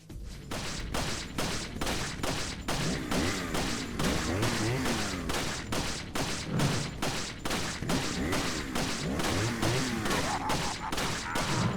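Handgun fire in Resident Evil 4 Mercenaries, a long steady sequence of sharp, evenly spaced shots, roughly two per second, with enemy grunts and impacts in between, all moderately loud and without talk.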